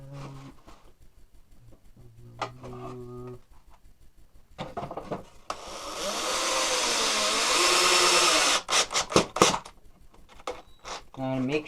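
A power drill drives 1.5-inch wood screws into a 2x4 for an air hose reel, a loud sustained whirring run of several seconds followed by short bursts, with quieter handling clatter and pauses on either side.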